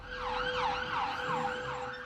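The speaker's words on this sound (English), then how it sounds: "As ambulances screeched to the scene" An ambulance siren wails in repeating rising and falling sweeps, loud and steady over a low road rumble.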